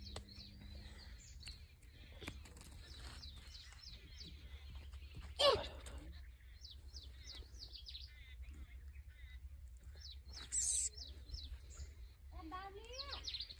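A sparrow chick that has fallen from its nest chirps in quick, thin, repeated bursts throughout. The chirps sit over steady low background noise, with a couple of louder knocks.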